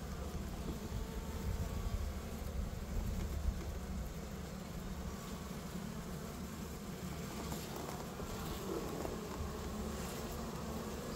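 Honeybees and drones are densely packed in a bee package, giving off a constant close buzzing hum that fills the whole stretch without pause or speech.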